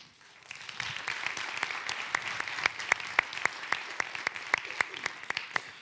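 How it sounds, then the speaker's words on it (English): A small audience at a college tech talk event applauds, a moderate patter of clapping with a few sharp, distinct nearby hand claps standing out, building quickly and holding steady. "much deserved round of applause for both Brandon and Collin."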